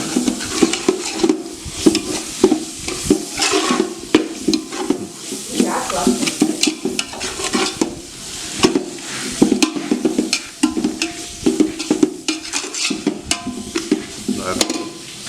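A spoon scrapes and stirs spices through chicken biryani in a pot, making a loud, close, continuous rhythm of scraping and clinking over a faint sizzle, without speech.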